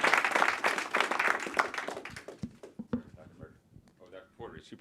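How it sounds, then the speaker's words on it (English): Applause and clapping from a crowd at a 9th grade academy football ceremony, loud at first, then thinning into scattered claps and fading out. "give Coach Granger a round of applause for everything he does for you guys"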